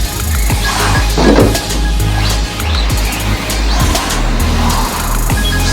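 A Traxxas Rally ST radio-controlled car with a brushless motor drives nearby at light throttle, its electric motor whining and pulsing through repeated accelerations, with tires scrabbling over a rough surface.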